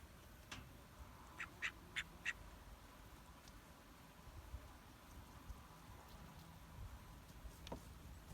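A pet duck quacks in a short burst of four or five quacks, then a single later call, fairly faint and close against quiet outdoor background with light rain.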